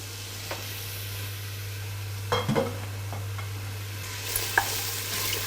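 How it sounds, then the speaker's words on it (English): Finely chopped onions frying in oil in a stew pot for Qormeh Sabzy, a soft, steady sizzle over a low hum, broken by a few brief scrapes and clinks of stirring. "I'll just fry them for 2 minutes until the onions are soft"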